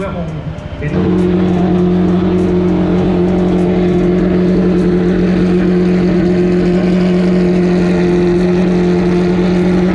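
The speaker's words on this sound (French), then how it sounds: "ils sont tous en train de se mettre sur la grille de départ" Historic Formula 1 race cars idle and creep onto the starting grid at a circuit, their engines a loud, steady, droning roar held close by for the whole stretch, with a voice faintly underneath.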